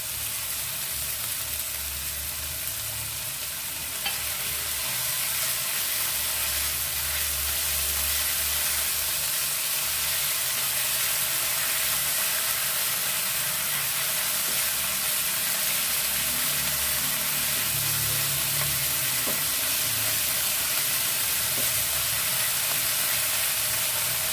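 Ginger, garlic and green chili paste fries in a pan, a steady soft sizzle and hiss running unbroken and close with no voices over it.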